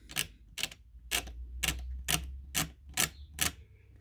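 Eight evenly spaced, sharp scraping strokes on a Titanic wreck diorama model, each a short bright rasp about half a second apart, close and loud with silence between them.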